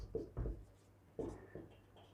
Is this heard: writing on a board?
yes